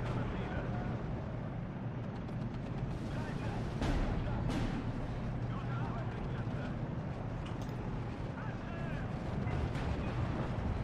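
In the video game Steel Division 2, an artillery gun fires a couple of booming shots a moment apart over a constant rumble of battlefield noise and faint voice chatter.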